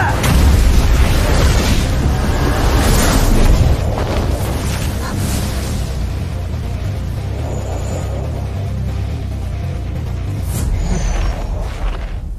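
A loud, sustained blast rumbles through a magic battle in the anime Almighty Mage season 4, as a wind-magic spell is smashed apart by a punch. The deep, booming roar stays heavy throughout, with no talk over it.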